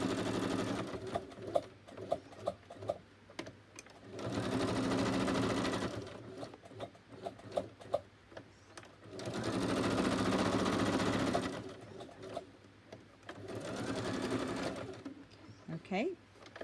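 A sewing machine stitches fabric in loud, steady bursts of whirring, stopping and starting several times, with brief clicks and handling noises in the pauses between runs.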